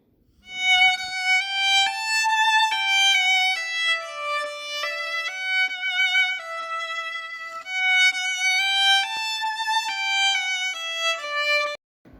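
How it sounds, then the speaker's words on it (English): A violin melody plays steadily and alone, notes gliding smoothly from one to the next with a bright, sustained tone. "Violin is an example for high pitch sound."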